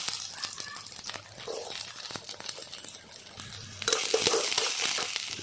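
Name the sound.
onions frying in hot oil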